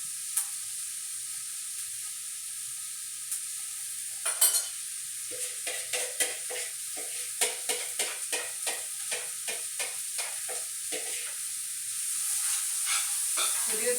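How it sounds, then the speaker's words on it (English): Vegetables stir-fried in hot oil give a steady, bright sizzle, broken by a rapid run of scraping stirs that slows and then eases off. "You're probably gonna hear it sizzle."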